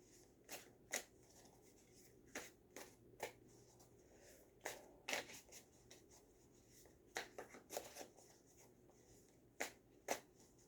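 A deck of cat-themed tarot cards is shuffled by hand indoors, giving a quiet series of crisp riffling bursts at irregular intervals with short pauses between them and no talking.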